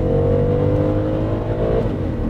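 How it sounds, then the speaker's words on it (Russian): A BMW X5 engine pulls hard on a straight test stretch, a loud, deep bassy drone with steady harmonic tones that rise slightly, then shift near the end as the SUV accelerates without a break. "Ну и звук, да, друзья, чувствуете, басит машинка неплохо."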